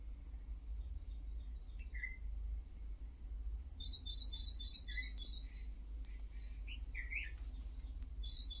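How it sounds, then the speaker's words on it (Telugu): Birds chirping outdoors in a quiet natural spot, with scattered calls and a quick run of repeated bright chirps in the middle, moderately near over a low steady background hum. "ఆ పక్షులు,"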